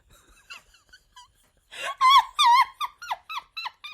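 A squeaky object gives a quiet series of short squeaks, then a burst of louder, high, wavering squeaks in quick succession as it is repeatedly banged.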